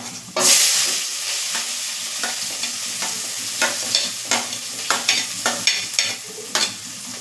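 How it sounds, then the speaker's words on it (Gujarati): Finely chopped onion sizzles steadily in hot oil in a pan for dal fry, close and alone, with a spoon stirring and scraping in a series of sharp, rhythmic clicks. "એક નંગ ડુંગળી હતી જે મેં ઝીણી સમારેલી હતી તે એડ કરી છે"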